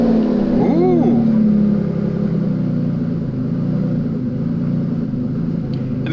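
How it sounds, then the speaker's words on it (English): An old car that has sat unused for a while idles lumpy just after starting, with a steady uneven low rumble up close, a brief whining tone in the first second, no speech. "the car hasn't been started in a while, so it runs a little bit lumpy"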